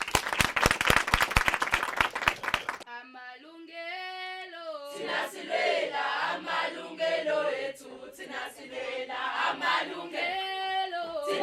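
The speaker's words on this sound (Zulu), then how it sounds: "Kodwa sishayele sonke ke likhulu ihlombe." Audience in a youth dialogue studio gives a short burst of loud, dense clapping, which stops abruptly and gives way to voices singing and chanting together.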